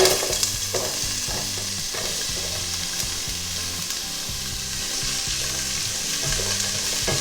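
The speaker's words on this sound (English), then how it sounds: "Now I will lower heat on 5 and stir fry onions" Onions stir-fry in rendered pork fat in a pan, with a steady, close sizzle and rhythmic scraping of a spoon against the pan repeating throughout.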